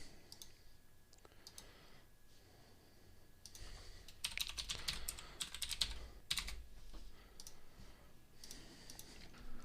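Computer keyboard typing Python code, soft clicks in irregular bursts that grow busier and louder midway, close by with no talking.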